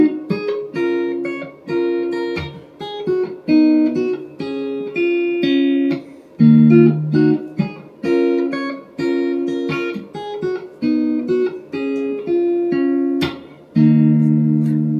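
Guitar playing the section after the breakdown: clean strummed chords and choppy stabs in a repeating pattern with short gaps, close and clear, ending on a held chord, no voices.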